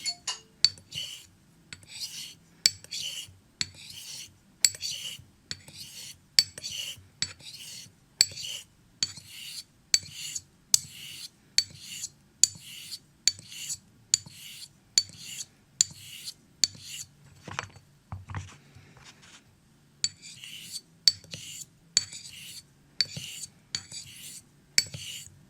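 A Thiers-Issard Evide Sonnant Extra straight razor stroked across a Norton Ascent sharpening stone, giving a steady run of short, crisp scraping swipes in an even back-and-forth rhythm, close and fairly quiet, with no talking.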